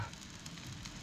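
Indrayani rice cooking in a pot on an outdoor fire near a hill fort, stirred with a brush, giving a steady soft sizzle and bubbling crackle throughout, faint and close.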